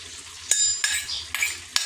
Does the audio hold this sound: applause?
no